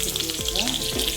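Green beans sizzling in hot olive oil in a pan, a continuous crackling hiss punctuated by a couple of quick stirring scrapes, close up and without any talk.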